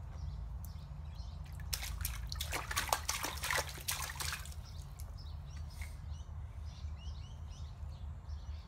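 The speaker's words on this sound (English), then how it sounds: "Is that cold water?" Cold water runs from a bathroom tap at a moderate level, with a brighter splashing burst for a couple of seconds before settling into a steady, softer trickle, with faint chirps in the background.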